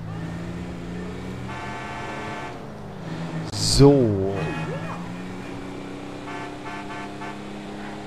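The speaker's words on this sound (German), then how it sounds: "Hupe funktioniert." Car horn honking in the video game GTA V, a single short toot rising out of steady in-game engine and traffic noise, with someone speaking briefly.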